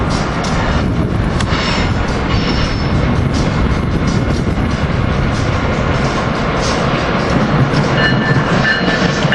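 Regional train hauled by ACS-64 locomotive 659 passing at 30th Street station: a loud, continuous rumble with rattling wheel clatter and occasional faint squeals, close by and sustained throughout.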